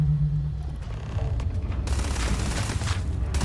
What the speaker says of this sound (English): there's more shooting?